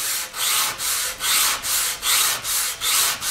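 Steady back-and-forth sanding with a sanding block on a figured maple electric guitar top, a close, hissing rasp repeating in an even rhythm, about eight strokes with no talking.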